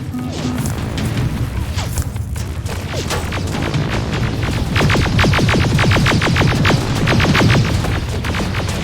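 Grenade explosions amid combat in the shooter Terminator Resistance: loud, repeated thuds and crashes over constant rumbling, building into rapid pounding bursts in the second half.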